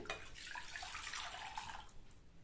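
Tamarind extract pours into a pan for Mysore rasam, giving a steady, close liquid splashing and trickling sound that runs for a couple of seconds without talk.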